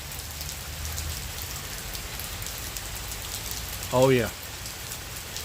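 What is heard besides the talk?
rain during a tropical storm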